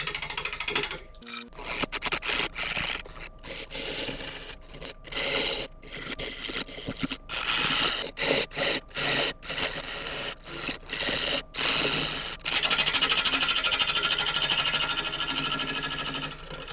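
A freshly sharpened half-inch bowl gouge cuts wood turning on a lathe, a harsh continuous scraping and rasping broken by frequent short pauses as the tool lifts off the spinning piece.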